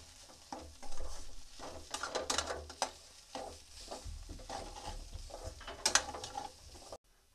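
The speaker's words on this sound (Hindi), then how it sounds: "अब हम इन्हें अच्छे से मिक्स कर लेंगे।" Spices and salt being stirred by hand into a pan of potato masala for samosa, kachori or dosa filling, with repeated scraping and clattering strokes against the pan over a faint sizzle, no voices.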